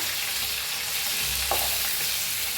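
Stuffed green chillies fry in a pan with a dense, steady hiss and sizzle, and a brief scrape and clatter partway through as they are turned over.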